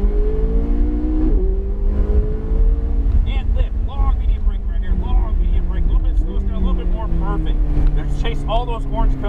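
A McLaren 570S sports car accelerates hard on a race track, its engine note rising and shifting through gears, loud and close throughout while people talk over the roar.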